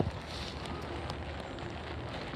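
Heavy rain pours during a European rugby union cup match, a constant hissing wash filling the background with faint crowd and wind texture, steady from start to end.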